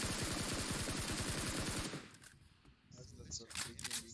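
SKS rifle in PUBG Mobile fires a rapid string of sharp shots for about two seconds, loud and close, then stops; a voice talks over the burst and continues afterward.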